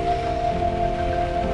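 Steady rain falls continuously on a surface around an RV, an even wash of patter with a faint constant tone running underneath and no voices.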